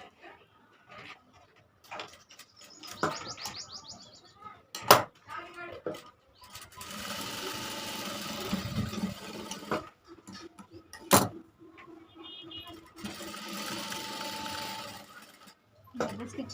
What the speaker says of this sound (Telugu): స్టిచ్చింగ్ అనేది వేసేసుకుంటున్నాను ఇలా